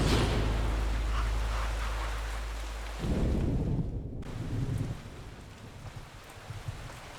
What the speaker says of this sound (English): I'm really enjoying the sound of the rain here.